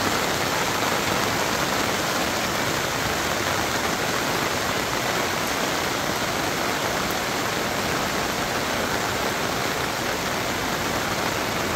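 Steady rain falls on a waxy corn field on a farm, a dense, even broadband hiss that runs unbroken and fairly close for the whole stretch, with no voices.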